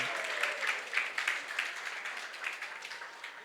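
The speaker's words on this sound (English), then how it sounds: "we'll like to thank Prabhuji again by one big round of applause" An audience in a hall gives a steady, dense round of applause to thank a speaker at a youth forum gathering. The clapping carries on evenly throughout with no clear voices over it.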